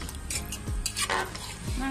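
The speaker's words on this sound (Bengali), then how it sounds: "এখন আমি মাংসটাকে কষিয়ে নিচ্ছি" Mutton stir-fried in a pan for a homemade rezala, with a steady sizzle broken by scraping stirs and a couple of utensil clanks against the pan, while a person speaks.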